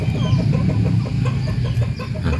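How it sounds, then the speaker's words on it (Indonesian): Several chickens bought for an aqiqah cluck close by inside an enclosure, a busy overlapping chorus of short, rhythmic clucks that stays loud throughout without talk. "Jadi sekarang kita lihat ayam yang kita beli tadi malam."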